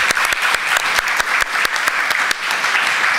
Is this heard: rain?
no